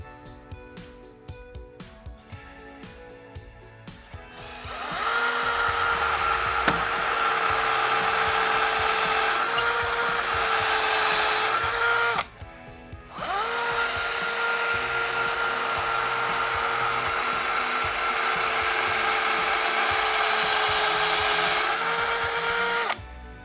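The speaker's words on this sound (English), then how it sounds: "then we're ready to drill the final 2 holes" A power drill bores holes into a wall to mount a Roman blind, running in two long steady whines separated by a short pause, close and loud, with no talking.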